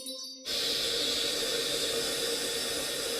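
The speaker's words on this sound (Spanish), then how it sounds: "El water, cuando jalamos la palanca." A household toilet flushes after its lever is pulled, a steady, loud rush of water that starts abruptly and keeps going unbroken to the end, with no voices.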